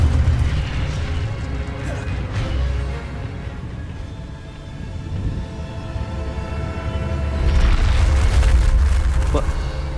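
An Incendio fire spell cast in a video game makes a heavy, rumbling roar with low booming, steady throughout and swelling louder toward the end.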